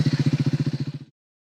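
Triumph Speed 400 roadster motorcycle, a 400 cc single built by Bajaj, idling with a steady, rapid, thumping exhaust pulse. The pulse stays even and fairly close, then cuts off abruptly as the engine stops.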